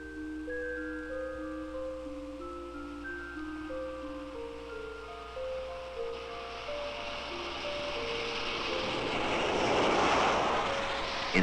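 A jet plane roars in, its broad rushing noise swelling to a loud peak near the end, after a run of stepped electronic tones.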